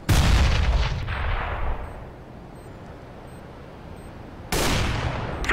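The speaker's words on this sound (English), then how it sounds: "I'm throwing a grenade." A grenade detonates in CS:GO with a loud, booming blast at the start, its rumble fading over a second or two; after a quieter stretch a second loud burst of gunfire or explosion hits near the end.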